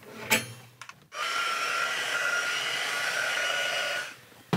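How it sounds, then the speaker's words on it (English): A hair dryer runs steadily for about three seconds, drying a freshly painted sketch in a sketchbook, with a brief rustle before it switches on and a click as it shuts off. "Let me hit it with the blow dryer and we will dry it up real quick."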